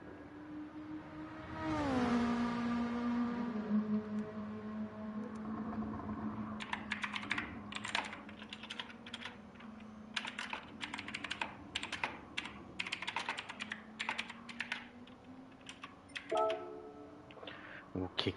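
Clattering keystrokes on a new computer keyboard, bursts of rapid taps and pauses, close and crisp, following a rising and falling electronic tone and low hum, with a person's voice heard alongside.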